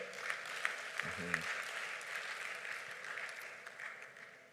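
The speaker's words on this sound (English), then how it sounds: "Please give her a round of applause before she even says a word" An audience at an African Union high-level dialogue in Accra applauds a youth ambassador, a broad wash of clapping from a large hall, fairly soft and distant, with a brief voice near the start.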